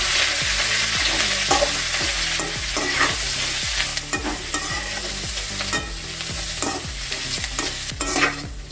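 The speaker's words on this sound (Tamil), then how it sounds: "நல்லா வதங்கிருச்சு பாவக்காய்" Bitter gourd sautés with salt in a pan. Rhythmic spatula scrapes and stirring strokes repeat steadily over a continuous close sizzle.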